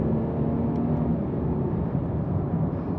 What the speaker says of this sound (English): So I'm in Sport Plus, like I said earlier, and then I'm gonna go drop down a few gears. Okay, I'm gonna press on the gas now.